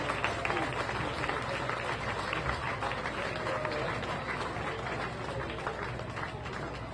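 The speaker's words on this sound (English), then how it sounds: "Please give them a nice big round of applause." Outdoor crowd applauding the sand sculptors at the awards ceremony of the 2013 Revere Beach Sand Sculpting Festival, a steady faint wash of distant clapping with murmured voices.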